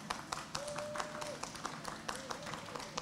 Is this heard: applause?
yes